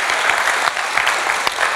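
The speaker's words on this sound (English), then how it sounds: "Round of applause." A crowd's round of applause at a technology talk, loud, close and continuous, a dense even roar of clapping with a few sharper claps standing out and no speech over it.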